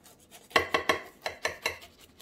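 A knife cuts through a slice of chicken and potato cake topped with crispy cheese, giving a run of six or seven close, crisp scraping and clinking strokes against the dish in quick rhythm.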